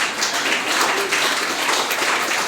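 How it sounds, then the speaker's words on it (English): Applause from an audience at a literary prize announcement ceremony, a steady, dense clapping that holds evenly throughout with no voices above it. "They deserve our applause"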